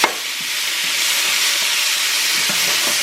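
Curry shrimp stir fry is mixed in a hot pan, giving a steady, bright hiss of sizzling with faint scraping stirs scattered throughout. It is close and constant, with no speech.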